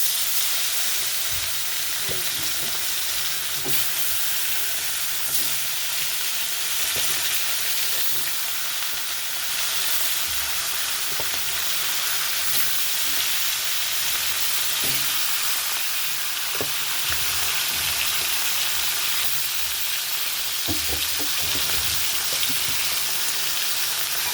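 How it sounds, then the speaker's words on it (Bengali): Fish frying in hot oil in a home kitchen, a loud, steady sizzle and hiss throughout with occasional soft clicks and stirring knocks. "তেল গরম হয়েছে, মাছ ভাজা বসে"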